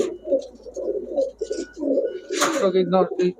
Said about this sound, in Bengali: সবগুলা এক হাত সাইজ কবুতর